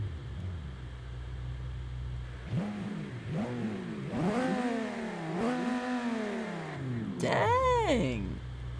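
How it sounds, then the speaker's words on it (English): In the BeamNG.drive driving game, a junkyard car's engine idles low, then rises through several rising and falling revs, each climbing higher, ending with a sharp high rev at the end. There is some speech over the rumble. "Let's give it a few revs."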